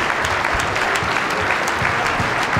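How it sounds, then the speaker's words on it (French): Thunderous applause from an evening audience honouring a young boy and his family, a dense, steady wash of many hands clapping close and loud for the whole stretch, with no speech over it. "Tonnerre d'applaudissements pour Aurélia, Raphaël et Nino."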